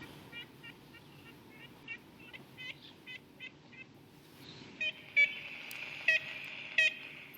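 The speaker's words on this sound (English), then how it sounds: "Do you hear those bird calls?" Distant woodpecker calls repeat in short nasal, tooting notes, a steady series of toots followed by louder, more insistent calls over a quiet outdoor background in the Everglades.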